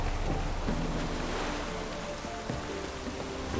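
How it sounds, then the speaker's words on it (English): Steady rain hiss falls across an outdoor scene in The Witcher 3: Wild Hunt, a dense wash of droplets with no voices, holding level throughout. "Looks like rain."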